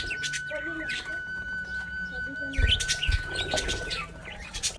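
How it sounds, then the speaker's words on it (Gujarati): Small sparrows chirp in short bright tweets at a Sai Baba temple, repeated near and moderately loud, with someone talking over them and a steady faint tone in the background. "કેટલી ફાઇન ફાઇન છે નાની નાની ચકલીઓ."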